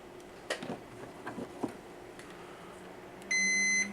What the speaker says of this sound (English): I suggest you take your multimeter on your continuity test mode